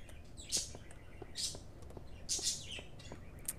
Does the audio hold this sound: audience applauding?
no